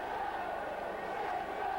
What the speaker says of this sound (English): the Saints crowd come alive